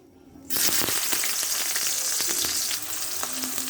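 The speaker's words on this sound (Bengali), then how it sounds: "আমার তেলটা অলরেডি গরম হয়ে গেছে আমি দিয়ে দিচ্ছি পেঁয়াজ কুচি" Chopped onion dropped into hot oil bursts into a loud, dense sizzle after a brief quiet moment, then keeps crackling steadily close by with a few stirring scrapes.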